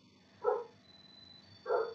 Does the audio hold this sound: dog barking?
yes